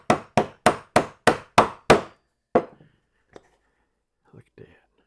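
A woodworking chisel tapped into a marking cut on a library table drawer repair: seven sharp, evenly spaced close knocks, then a lone strike and a few faint small taps as the tool settles into the line.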